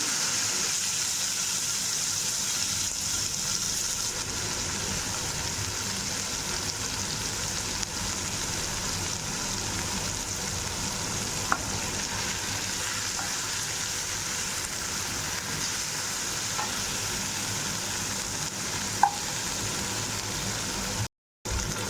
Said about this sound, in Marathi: बोंबील भाजण्यासाठी आपण जे तेल वापरलेलं होतं त्या तेलामध्येच आपण हा हिरव्या मिरचीचा ठेचा आता घालून थोडासा परतून घेऊ